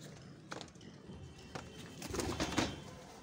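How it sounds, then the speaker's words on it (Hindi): A dirty, hungry pigeon cooing up close, soft throaty coos swelling in a few bursts with faint fluttering and handling noises, no talking. "पता नहीं कैसा कबूतर है"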